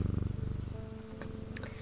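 A pet cat purrs close by in a steady, low rumbling rhythm, loudest at the start, with faint indoor sounds over it near the end.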